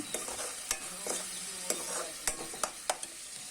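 Chicken stir-fried in a pan while a spatula strikes and scrapes in a loose rhythm of sharp clacks over a soft, steady sizzle.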